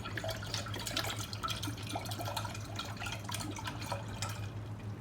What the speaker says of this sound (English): So you need to add the 1 liter of soya milk